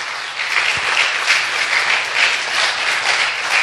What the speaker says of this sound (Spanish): Yo no sé si usted le da un aplauso al Señor por eso, ese sacrificio.